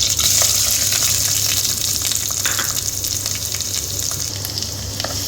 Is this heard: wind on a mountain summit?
no